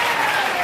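Congregation applauding at a Sunday church service, a dense, steady wash of many hands clapping together at close range, filling the whole short moment without a break.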